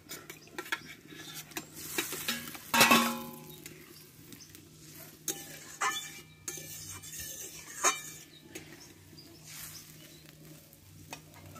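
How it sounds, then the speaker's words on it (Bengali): Sautéed pointed gourd pieces tipped into a pan with sweetened water for a poppy-seed curry, bringing a sharp clatter and splash, then intermittent metal spatula scrapes and clinks over a low sizzle, close by without talking. "দেখো এবার কষে রাখা পটলগুলো আমি দিয়ে দেবো।"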